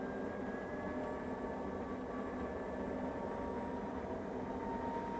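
A Maytag Neptune washing machine ramps into its high-speed spin cycle, a steady loud whirring roar with a faint high whine, constant throughout and free of talk.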